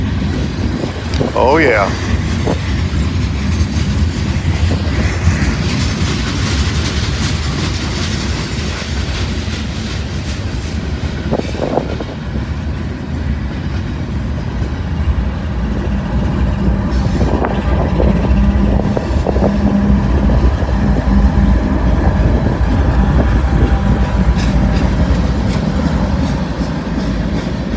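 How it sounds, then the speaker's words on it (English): A long train rolls past close by in a loud, continuous rumble with steady clickety-clack from the wheels over the rails, and someone speaks briefly. "Got a feeling that means this is going to be a long train."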